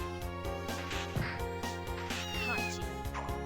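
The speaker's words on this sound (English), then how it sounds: "Time to steal this cat." A cat meows in a sprite-based video game, short mewing calls set over steady, looping game music.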